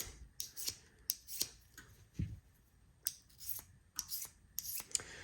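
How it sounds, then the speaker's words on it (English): A pink sharpening stone rubs against the burr on a scissor blade in short, close, crisp scraping strokes, repeated irregularly with small pauses between them. "I like to take my pink stone and run it against the burr."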